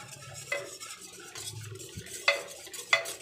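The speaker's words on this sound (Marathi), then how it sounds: "थोडं थोडं पीठ टाकून हटवून घ्यायचे व्यवस्थित." Rice flour is stirred into a pot to make papad dough, producing soft scraping and stirring with a few sharp utensil clinks against the pot, fairly quiet.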